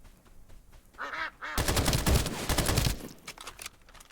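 Video game gunfire: a fast, dense burst of automatic shots lasting about a second and a half, preceded by short honking duck-like calls, then fading into quieter scattered sounds.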